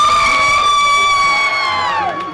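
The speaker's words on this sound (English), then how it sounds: "And the crowd goes wild." A pageant crowd at the Miss Double December show cheers and whoops loudly, a dense roar with a shrill sustained whistle or scream riding on top that slides down at the end.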